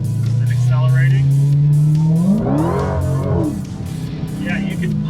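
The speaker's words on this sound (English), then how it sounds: "Turning in here again and accelerating." Supercharged 6.2-liter V8 of an 870-horsepower Dodge Challenger SRT Demon accelerating after a turn, a loud close engine note rising steadily in pitch for about two seconds, then easing off, with a voice talking over it.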